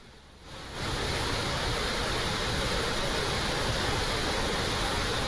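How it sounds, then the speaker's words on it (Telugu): Ethipothala waterfall in Palnadu roars with rushing water, a dense, loud, unbroken wash that swells in after a quieter opening moment and holds steady throughout. "ఇంత అద్భుతంగా ఎత్తిపోతల జలపాతం ప్రవహించడం"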